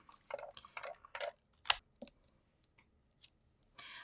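Scissors cut a craft paper square in half with a series of quick, crisp snips. They come close and fairly faint, with quiet gaps between them and no talking.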